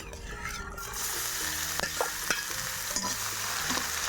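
Garlic and ginger paste frying in oil in a pan for a pea pakora curry, a continuous crackling sizzle broken by several sharp scrapes and taps of a stirring spoon, close and steady, no talking.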